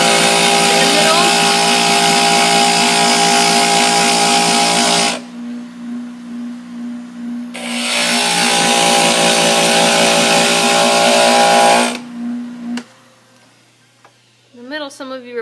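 Angle grinder grinding metal pieces in two loud sustained bursts of roughly five seconds each, separated by a quieter gap, then stopping as a voice speaks briefly near the end.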